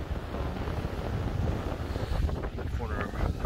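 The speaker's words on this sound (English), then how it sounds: "Got a 25-mile-an-hour gust come through on the weather station." Strong wind gusts of about 25 mph buffet a cheap greenhouse, heard as a loud, continuous rumbling roar of wind noise across the microphone, with a faint voice partly under it.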